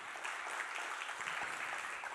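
A church congregation claps at a sermon, a soft, distant wash of steady applause heard faintly throughout.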